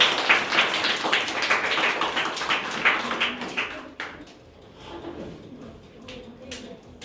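Applause from students at a school exam results ceremony: clapping fills the first half, then thins to scattered, fainter claps and taps.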